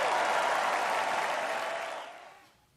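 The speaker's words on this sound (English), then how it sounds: "enthusiastic cheers from a crowd" A crowd at the Republican convention breaks into loud, dense applause and cheering that holds steady, then fades out over the last second.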